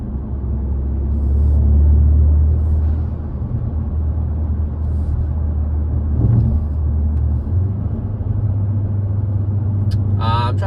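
A 2021 Hyundai Sonata N Line fitted with a Borla exhaust cruises around town, giving a steady low exhaust drone and rumble with a slight swell near two seconds and a brief higher rise toward the end.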